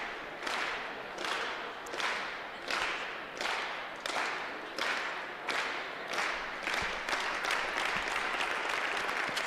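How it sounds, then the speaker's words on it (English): Stadium crowd at a track and field championship giving a slow clap for a high jumper, rhythmic collective claps roughly every 0.7 seconds, steady and even, quickening slightly at the end. "He's going to get the slow clap going now."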